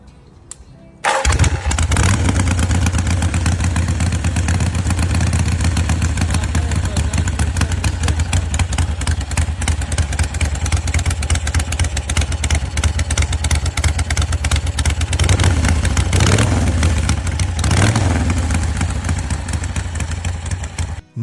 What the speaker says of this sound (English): that signature Harley rumble you can feel through the frame